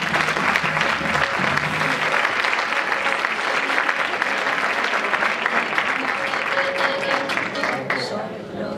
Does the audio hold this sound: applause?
yes